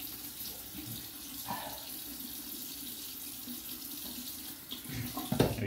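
Water runs steadily from a bathroom tap for rinsing during a shave, a soft continuous hiss with faint splashing and a brief louder clink of handling near the end.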